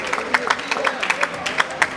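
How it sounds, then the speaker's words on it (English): A crowd at a women's 4x400 relay track meet claps steadily in support of an injured athlete, with rapid overlapping handclaps at a moderate distance while a voice talks over it. "That applause is always for support of the athlete"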